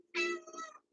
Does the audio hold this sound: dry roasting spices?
no